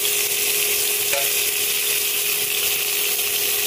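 Curry leaves, green chilli and ginger frying in oil for curd rice make a steady, even sizzle and hiss that holds at moderate loudness throughout, with one faint clink partway in.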